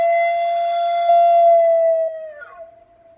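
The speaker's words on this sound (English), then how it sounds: "This is where I create a lot of air pressure into the flute, and then I let it die down, so it'll sound like this." A Native American flute holds one steady, breathy tone that swells slightly under strong air pressure, then sags in pitch and fades away as the breath dies down near the end; no other sound accompanies it.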